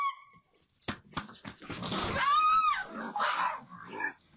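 A dog whimpers and yips after a raccoon chase, a string of high, wavering whines and short yelps rising and falling, close by, with faint rustling around it.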